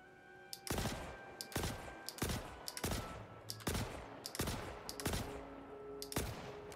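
Kastak Arms Custodian SMG fire in the video game Star Citizen, about seven or eight short bursts spaced roughly evenly apart, each a sharp crackling rattle of rapid shots, fairly quiet overall.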